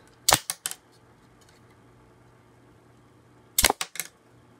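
Small plastic shooters on a Lego Star Wars General Grievous combat speeder toy fire in two quick bursts of sharp mechanical clicks, a few rapid snaps each, separated by a quiet pause.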